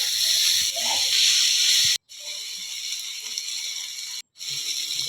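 Fenugreek leaf curry, methi palya, frying in oil with green chillies and curry leaves, giving a steady close hiss that cuts out briefly twice.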